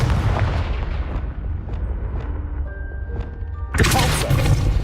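A Confringo fire spell cast in the video game Hogwarts Legacy, several dull booms and thuds over a low rumbling game soundscape, ending in a loud crackling burst near the end.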